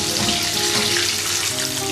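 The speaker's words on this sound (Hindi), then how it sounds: "ये देखिए विंग अच्छी तरह से फ्राई हो गई है।" Chicken wings frying in hot oil, a loud, dense, continuous sizzle and crackle close up with no talking.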